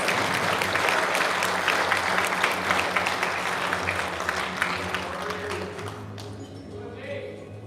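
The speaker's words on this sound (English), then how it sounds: "Let's give him a round of applause" An audience applauds at a police department promotion ceremony in Guam, with brisk, dense clapping that gradually thins and fades toward the end while a low hum and faint voices sit underneath.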